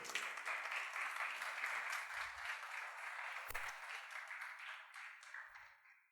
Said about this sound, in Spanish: Y un aplauso también se vale.